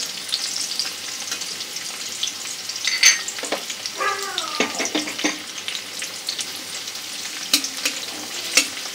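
Chopped onion and garlic sizzle and fry in a pan for chicken jalfrezi, a steady close crackle broken by a few scraping stirs and clinks of the spoon.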